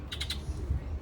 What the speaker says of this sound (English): I'm hearing a bird out there.